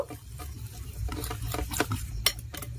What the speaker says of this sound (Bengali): এবার একটি হ্যান্ড উইচ দিয়ে খুব ভালো করে মিশিয়ে নেব।